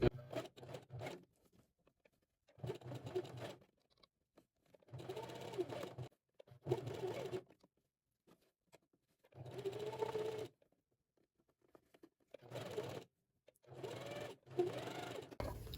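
A sewing machine stitching along the edge of a fabric for a women's V-neck dress shirt, running in repeated bursts of steady mechanical whirring separated by short pauses, close and clear.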